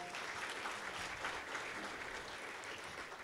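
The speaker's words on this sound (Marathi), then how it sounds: "टाळ्यांचा कडकडाटही तसाच व्हायला हवा." At an award ceremony, a crowd gives steady, even applause, a faint but continuous patter of many hands clapping with no voices over it.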